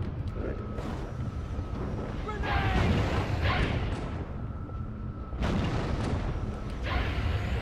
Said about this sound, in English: Fire the bloody rocket already.